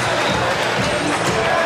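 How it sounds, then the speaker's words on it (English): A massive crowd at a Melbourne boxing night, many diners seated for a three-course dinner, making a dense, steady roar of chatter and cheering that fills the room throughout. "Crowd, a massive one here in Melbourne."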